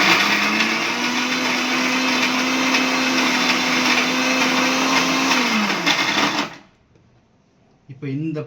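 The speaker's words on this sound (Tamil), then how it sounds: "ரெடி பண்ண இந்த ஐட்டத்தை எல்லாத்தையுமே நம்ம மிக்சியில் போட்டு சட்னி ரெடி பண்ண போகிறோம்" A mixie blender grinds mint and tender coconut into chutney, a loud steady whirring motor with a faint pitch that drops as it winds down and stops, then a brief clatter after a pause.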